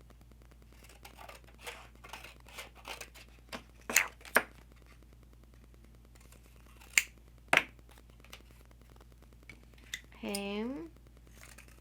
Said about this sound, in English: I'm going to cut 2 squares.